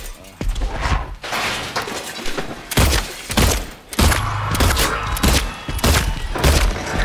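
Handgun shots in a Silent Hill 2 Remastered fight, a string of loud, close, booming blasts spaced about a second apart with heavy thuds in between.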